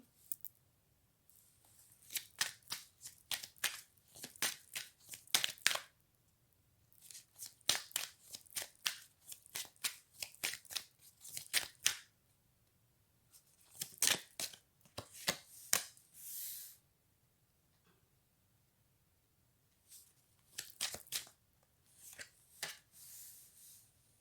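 Tarot cards being shuffled for a reading, repeated crisp riffling bursts separated by short pauses, close and fairly quiet with no voices.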